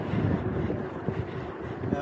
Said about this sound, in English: Quite windy at the moment.